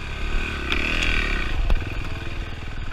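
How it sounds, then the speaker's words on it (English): A KTM enduro motorcycle engine revs and strains as the bike climbs a steep rocky desert hill, its buzzing note rising and falling with loose clatter and scraping from the terrain, fairly close. "Comes Derrick up the hill, kind of paddling his feet a little bit, trying to stay upright."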